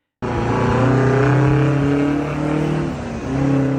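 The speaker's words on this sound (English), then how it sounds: "That distinctive supercharger whine, the throaty rumble at idle, the raw mechanical presence." A large Detroit Diesel two-stroke truck engine roars loud and steady from close by, its harmonic drone dipping briefly near the end before surging again.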